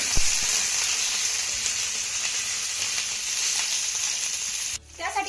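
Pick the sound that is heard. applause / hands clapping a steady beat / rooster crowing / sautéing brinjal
sautéing brinjal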